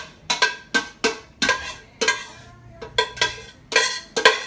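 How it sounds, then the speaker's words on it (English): A spoon scrapes and clanks against a pot while ground turkey meat sauce is spread over egg noodles for a casserole, about a dozen sharp, close metallic knocks and scrapes in an uneven rhythm, with no talk. "Don't be like me, keep scraping the pot"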